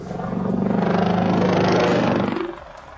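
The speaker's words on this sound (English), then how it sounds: "a helicopter crash caught on camera" A helicopter in news footage of a crash over an Alabama neighborhood drones steadily with a rhythmic rotor chop and broad engine roar, loud and close, then cuts off abruptly near the end.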